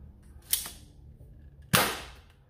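A single-shot toy blaster fires suction darts: two sharp pops with a springy snap, the second louder, each trailing off quickly, with no voices.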